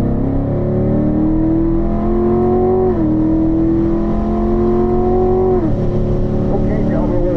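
A Corvette accelerates hard around a track during a performance driving school session, its engine note climbing steadily and dropping at two gear shifts, loud and close throughout, with an instructor's voice over the top.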